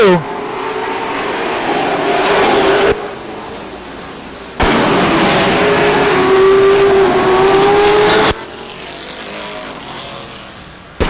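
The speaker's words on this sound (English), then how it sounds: "Steve Stacy spins his race car" A race car spins out at Stockton 99 Speedway, with loud engine roar and rising revving, a long tire squeal, and bursts of track noise under an announcer's voice.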